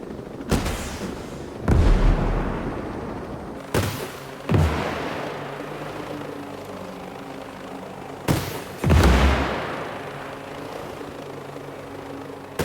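Rocket explosions in the video game Ghost Recon Breakpoint, fired from long range: six heavy booming blasts arriving in close pairs, each with a short rumbling tail, over a low ambient bed with no talking.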